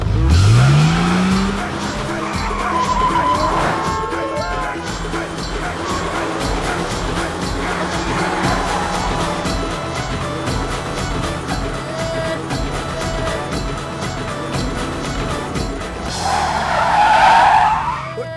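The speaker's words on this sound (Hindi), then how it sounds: "ओह इंदु जी, आप गाड़ी बड़ी अच्छी चलाती है" A car in a Hindi action film drives fast with loud tire squeals and skidding at the start and again near the end, engine noise running throughout.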